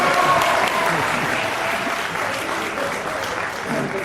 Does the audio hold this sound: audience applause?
yes